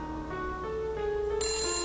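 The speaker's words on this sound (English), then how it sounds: "Let's answer the phone." A telephone rings in the Nancy Drew adventure game Message in a Haunted Mansion, a steady electronic bell tone that holds throughout, with a brighter high chime joining near the end.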